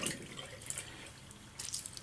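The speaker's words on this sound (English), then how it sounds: "put some warm water on that." Warm water runs from a tap onto a shaving brush for a wet shave, a soft steady trickle with light splashing and drips, fairly quiet and with no voices.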